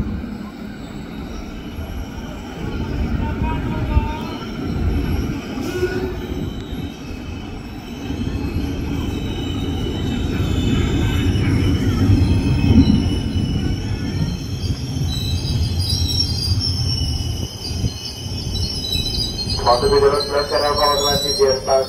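KRL commuter train, a Tokyo Metro 6000 or JR 205 set, moving through Manggarai station in Jakarta, with a steady rumble, a high squeal from the wheels, and station announcements near the end.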